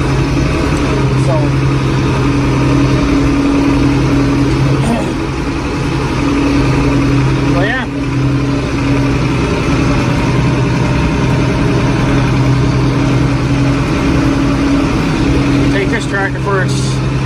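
A warmed-up International Harvester 1586 tractor idles with a steady low droning hum and constant tone throughout, close and loud, with faint clanks and outdoor noise over it.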